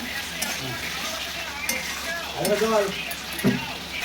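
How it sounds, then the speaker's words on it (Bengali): Potatoes sauté in a spice paste in a pan for a Bengali shukto, a soft steady sizzle under a few scraping stirs and light utensil clinks, with faint voices in the background. "এবার আমি আলুগুলোকে সব দিয়ে এবার দশ মিনিটের মতো কষতে থাকবো"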